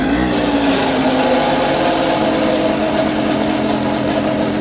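A first-generation Atom 80 paramotor engine running on a workshop test stand after an overhaul, a steady buzzing two-stroke drone held close and loud throughout, with no talk.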